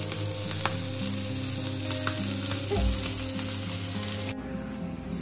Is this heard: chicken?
no